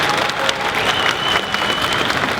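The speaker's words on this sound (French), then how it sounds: "on va les applaudir quand même" Conference audience at Japan Expo 2015 applauding, a dense, steady roar of many hands clapping throughout, fairly loud and close, with no voices over it.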